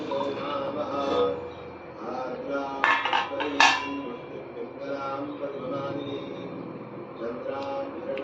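A pressure cooker holding cooked tender jackfruit is opened, with metal lid and pot clanks and clinks in short bursts, close by, over a speaking voice.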